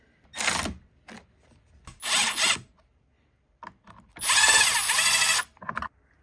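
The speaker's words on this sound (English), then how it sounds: "you'll install the screen part. And we'll screw this one in." A power tool drives screws to fix the screen onto a diesel heater, sounding as several short whirring bursts separated by pauses, with one longer, louder run near the end, close by.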